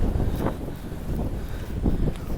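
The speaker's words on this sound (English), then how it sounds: "looks like the wind's calming down a little bit" Wind blowing outdoors, a steady broadband rush across the microphone with gentle gusty swells and no talk.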